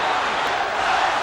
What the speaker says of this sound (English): Many yelling Tyson.